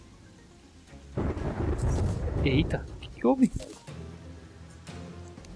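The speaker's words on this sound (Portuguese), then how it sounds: "Mano, começou uma chuva brava aqui, olha." Heavy rain breaks out in Terraria with a sudden loud thunder rumble that settles into a rushing downpour, while someone talks over it.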